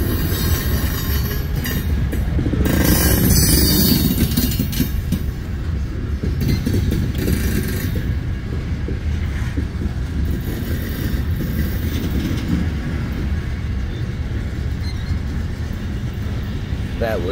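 A Norfolk Southern freight train rolls past close by, a loud continuous rumble of wheels and rail noise with a heavy pass in the first few seconds. Squeals and clickety-clack carry on steadily throughout.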